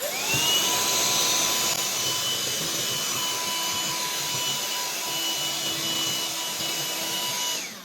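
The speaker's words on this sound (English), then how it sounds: "we're just going to use the vacuum to clean it up" A BLACK+DECKER Dustbuster handheld vacuum runs continuously at close range sucking up debris, a loud whining roar that holds steady before winding down at the end.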